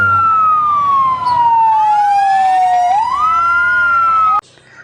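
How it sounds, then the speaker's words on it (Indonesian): Fire truck siren wailing loud and close, a single long tone sliding slowly down and then back up, cutting off abruptly at the end. "ada mobil pemadam kebakaran"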